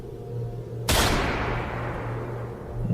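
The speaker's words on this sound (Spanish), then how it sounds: "Un disparo se escuchó a lo lejos, en lo profundo del bosque." A single distant gunshot in a deep forest, an audio drama effect: a sharp crack followed by a long, fading reverberant tail over a low steady hum.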